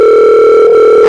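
Telephone ringback heard while calling someone, a loud, steady electronic tone held evenly, no voices.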